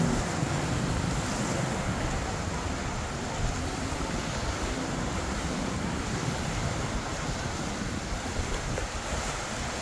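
Ocean waves wash and roar steadily on the coast near Dumaguete, Philippines, mixed with gusty wind buffeting the microphone, with no talking.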